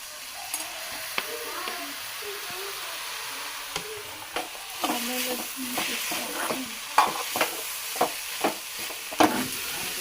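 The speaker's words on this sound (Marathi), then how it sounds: "कांदा इकडे भाजला आहे थोडासा आता टॉमॅटो टाकूया" Chopped tomato goes into onion frying in oil, with a continuous close sizzle and a run of sharp scraping and tapping stirs that grow busier toward the end.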